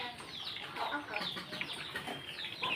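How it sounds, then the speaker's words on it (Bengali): Tiger chicken chicks on a small farm keep up a steady stream of thin, high peeps and cheeps, many overlapping and continuous, faint and somewhat distant, with no clear speech. "ঢাকা থেকে দশটা টাইগার মুরগির বাচ্চা আনছিলাম"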